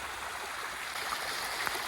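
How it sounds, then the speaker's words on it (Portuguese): Rainwater runs along a rural dirt road during a storm. The flow makes a steady, moderately faint rushing and trickling wash with no speech. "a quantidade de água que corre por dentro da estrada"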